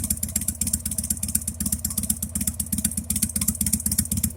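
Black Harley-Davidson Sportster motorcycle engine idling after a carburetor swap, a steady, loping, rhythmic potato-potato thump with clattering, heard close and fairly quiet on its own.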